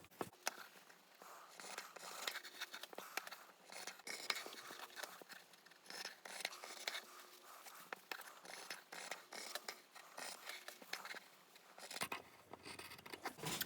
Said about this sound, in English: So just follow your lines and cut this part off the bottom.